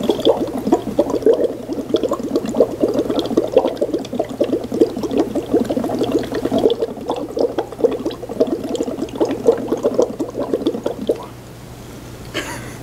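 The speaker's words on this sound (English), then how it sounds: "I'm going to use the straw to blow bubbles into this mixture" Bubbles are blown through a straw into a red cabbage indicator mixture, making a steady, close bubbling and gurgling that lasts about eleven seconds and then stops, with no talking.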